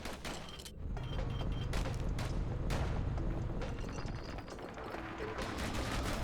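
Calamity Cannon in Bastion firing in rapid, dense bursts of blasts with mechanical clatter, loud and continuous throughout with no talking.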